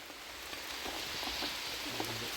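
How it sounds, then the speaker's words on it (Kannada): Rain pours down in a continuous, dense hiss of drops hitting surfaces, with no voices. "ಮಳೆ ಜೋರಾಯ್ತು"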